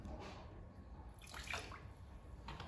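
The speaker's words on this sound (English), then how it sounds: "I'm just going to put a cupful in the drinking vessels." Water from a cupful mixed with a probiotic water additive splashes into drinking vessels in a horse stable, a brief, faint trickling pour in a quiet room.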